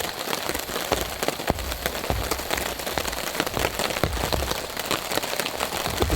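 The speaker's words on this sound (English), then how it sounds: "The sound of the rain on the tarp." Rain pattering steadily on a tarp at a wild camp among pine trees during a heavy storm, a dense close patter of drops that continues for the whole stretch with no voices.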